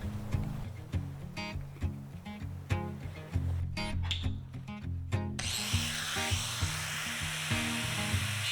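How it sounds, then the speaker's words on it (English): A power drill bores bolt holes through handcrafted wooden post and beam brackets at an off-grid build, whirring in rapid, repeated pulses with a steady motor hum and a brief, sharper hiss near the end. "I'll drill the holes through them for the bolts that got to go in"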